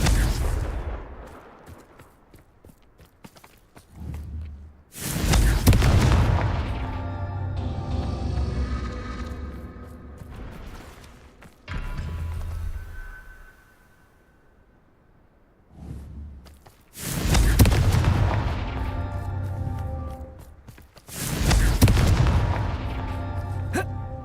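Confringo blasting spells fired in the Hogwarts Legacy video game, several loud explosive booms landing in bursts with quieter gaps and game sound between them.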